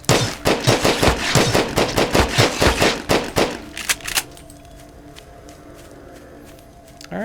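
Rapid automatic gunfire from shooting a winged enemy in the video game Grav Reborn rattles in quick bursts for about four seconds, then stops and leaves quiet ambient game hum.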